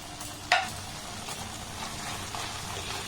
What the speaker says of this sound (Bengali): গ্যাসের ফ্লেমটাকে একদম লো রেখে এটাকে কন্টিনিউ নাড়াচাড়া করছি।